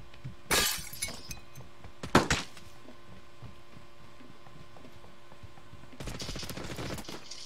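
Gunfire in the video game Ring of Elysium, sharp bursts of shots with glassy shattering near the start and middle, then a rapid volley near the end over a quiet game background.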